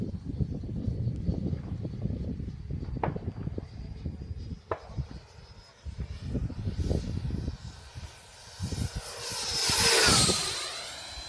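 A Taff Hobby Viper model jet flies past, its whine swelling to a loud, close peak near the end, following a stretch of chopping clatter and handling noise.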